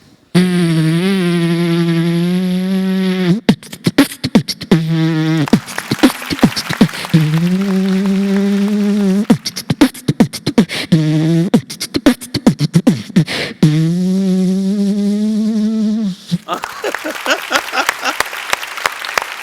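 A voice imitates a droning, buzzing fly, the sustained hum broken up by quick percussive beatbox bursts, loud and close.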